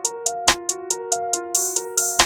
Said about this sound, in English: The hi-hat isn't controlled enough, it plays for too long